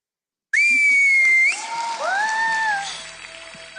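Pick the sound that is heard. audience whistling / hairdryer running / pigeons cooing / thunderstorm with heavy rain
audience whistling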